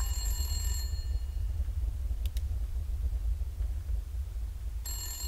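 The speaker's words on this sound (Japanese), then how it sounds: "電話が鳴っている。" A ringing telephone inside the Resident Evil Village: Shadows of Rose horror game, with a bright, bell-like ring at the start and again at the end over a steady low rumble of game ambience.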